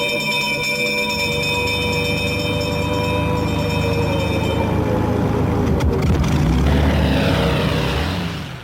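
Propeller engines of an early all-metal passenger airliner drone steadily and loudly, the throbbing hum building slightly toward the end before fading.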